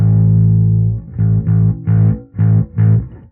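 An electric bass played through a Fender Super Bassman tube amp with a drive effect, a gritty distorted low tone: one long sustained note, then four short punchy notes in a steady rhythm, close and loud.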